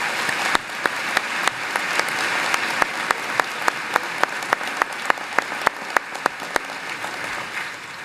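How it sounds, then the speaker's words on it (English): A large crowd at a college commencement claps steadily for several seconds, a dense, even wash of applause with sharp individual claps standing out near the front. "Can we give them a round of applause?"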